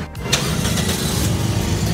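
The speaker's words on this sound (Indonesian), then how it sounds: "Ini suara mesinnya" A 2008 Toyota Yaris S automatic's engine turns over and catches, settling into a steady, smooth low rumble that runs throughout, fairly close and loud.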